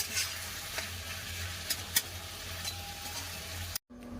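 A pan of bottle gourd cooking on the stove gets stirred with a spoon: a steady low sizzle runs underneath while scattered clinks and scrapes rise above it, fairly quiet and close, before cutting off abruptly.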